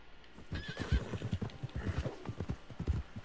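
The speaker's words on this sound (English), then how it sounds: "Oh wait, a wild horse." A wild horse in a video game whinnies while hooves clip-clop in a steady rhythm, close and fairly loud, with no talking.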